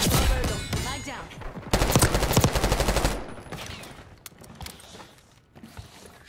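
Rapid automatic gunfire in the Black Ops 6 video game, with bursts of shots and sharp reports that fade into scattered impacts and lighter effects.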